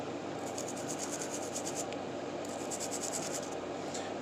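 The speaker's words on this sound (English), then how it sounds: "Back to scrubbing" A Zebco 404 fishing reel gets scrubbed with dish soap to clear black grease, giving quiet, repeated rubbing and brushing strokes in short bursts close by.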